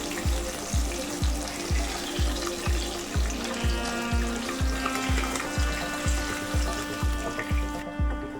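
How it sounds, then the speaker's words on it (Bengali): Pabda fish fry in hot oil in a pan, a continuous bright sizzle with a steady, rhythmic bubbling pulse underneath, close and moderately loud with no voices. "মাছ আমার একদম ভাজা হয়ে গেছে"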